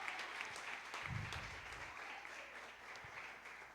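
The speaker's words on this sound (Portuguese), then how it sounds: "dá uma salva de palmas mais forte" Faint, distant applause from a church congregation, a brief patter of clapping that rises and fades.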